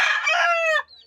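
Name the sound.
gold rooster crowing and clucking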